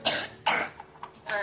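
A child's few short, rough coughs with throat-clearing in a quiet room, irregularly spaced and fairly close.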